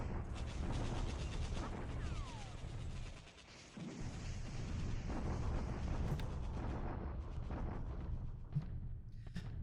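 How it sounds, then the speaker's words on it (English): Strategy war game set in China in January 1942, with an artillery bombardment heard as continuous rumbling and booming blasts. A short lull comes partway through before the barrage resumes, and there is no speech. "And his daily bombardment at Taiyun."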